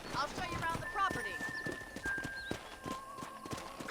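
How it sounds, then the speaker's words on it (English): Horse hooves clip-clopping in a steady trot in Red Dead Redemption on Switch, with a whinny and game music tones, while a voice talks over the ride. "let's see if you can still ride a horse"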